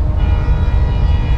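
Pak Business Express, the 34 Down train, passing a railway station, a loud, steady rumble of rolling wagons with a faint tonal whine throughout and no voices.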